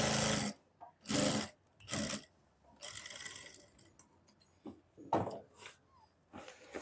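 A sewing machine stitches trouser fabric in short bursts, close and fairly loud, with brief pauses and quieter handling noises between the runs of stitching.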